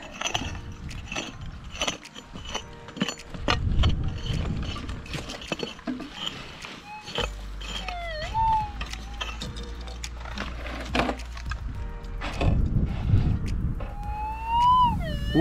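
While prospecting for gold near Meekatharra, Western Australia, a metal detector swept over a buried target gives several rising-and-falling warbling tones among scraping and digging thuds.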